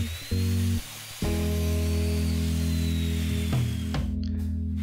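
A power tool cuts the wooden backer of a wall-mounted coat rack to length, giving a loud, sustained motor whine that drops and rises as the blade works through the wood.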